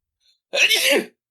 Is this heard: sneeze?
yes